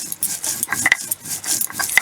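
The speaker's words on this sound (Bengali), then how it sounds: "এবার মশলাটা বাঁধবো শিলবাটায়। দেখুন বন্ধুরা কি সুন্দর বাটা হচ্ছে মশলা" Mustard seeds and chillies being ground on a stone slab with a stone roller (shil-bata), a close, steady gritty scraping and rubbing in quick repeated strokes.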